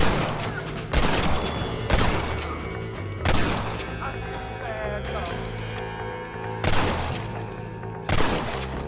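Gunfire in Red Dead Redemption, with sharp loud shots landing at irregular intervals every second or two over continuous game background sound and music.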